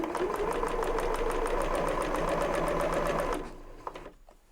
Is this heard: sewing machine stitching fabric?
yes